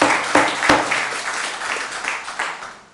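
Applause from the audience at a city council meeting, starting with a few sharp, distinct claps that build into a steady round of clapping, then gradually thins out and fades.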